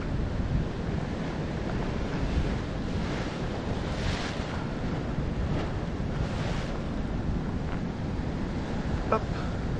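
Heavy swell and rough sea waves surge and crash along the shore during a fishing session, a continuous loud roar of surf mixed with gusting wind buffeting the microphone.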